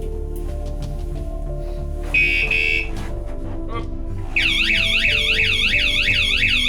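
A motorcycle alarm sounds in bursts: a short steady tone, then a loud repeating warbling siren that keeps cycling.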